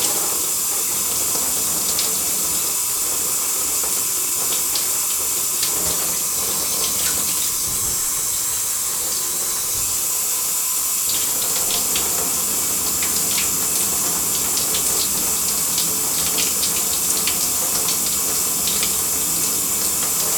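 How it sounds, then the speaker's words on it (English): Shower water runs steadily in a bathroom, a loud unbroken spray hiss lasting throughout with no one speaking. "Get in the shower."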